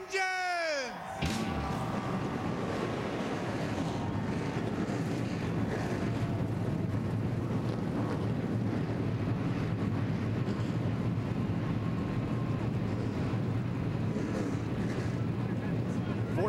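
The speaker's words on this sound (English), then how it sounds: "40 cars all coming to life." Forty NASCAR stock cars firing up together at the Toyota All-Star Showdown, a dense, loud sustained roar of many engines after a brief voice, with a commentator talking over the din.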